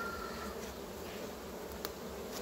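Honey bees from a colony headed by a red Buckfast queen buzz in a continuous, close, even hum, with no voices present.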